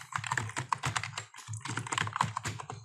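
Rapid keystrokes on a keyboard as a short phrase is typed, a close, continuous run of light clicks with brief pauses and no voices.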